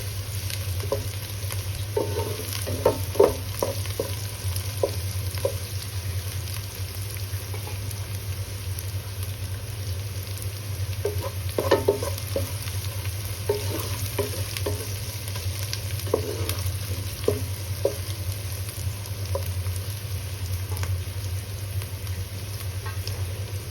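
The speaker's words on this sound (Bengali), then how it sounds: "পেঁয়াজটা লাল লাল করে ভাজা হবে।" Onions frying and being stirred in a pan while cooking Bengali-style jackfruit, with steady sizzle and scattered scraping stir strokes over a constant low hum, close and alone without speech.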